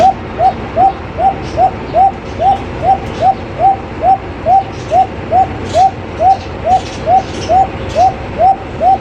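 Pigeons at a bird market, with a steady train of short, evenly spaced calls repeating about twice a second, fairly close and clear over a low background murmur.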